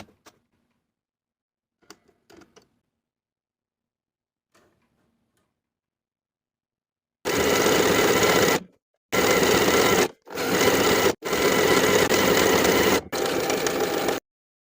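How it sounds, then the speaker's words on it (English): Sewing machine running a honeycomb top stitch along a knit tank top neckband, several loud steady bursts of motor whir separated by short pauses, preceded by a few faint clicks and handling taps. "I'm going to top stitch on top of my neckband with about an 1/8 inch seam allowance from the main seam."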